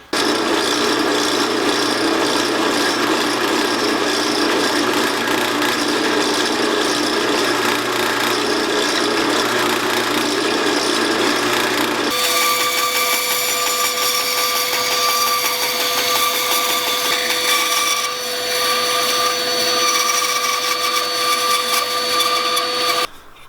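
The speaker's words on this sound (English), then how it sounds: "what I need to do is to cut out a slot down to about here" Steady rasping, ratcheting cuts as a slot is sawn into a wooden carver's arm, loud and continuous throughout, the tone shifting partway through as the cut deepens.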